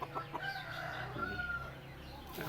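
A young rooster, one of two newly acquired sibling cockerels kept in front of a house, crows in a short, strained call that rises and holds, heard close with faint background noise and no talking.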